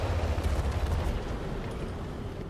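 A tank gun fires at a hill in a video game, giving a heavy low boom that rumbles and then fades into a duller tail over a couple of seconds, with no speech.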